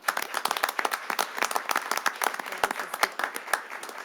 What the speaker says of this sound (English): give one more round of applause to everyone involved